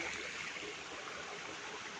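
A small waterfall on a stream near Urmodi dam, heard as a faint, continuous rush of falling water that stays even throughout.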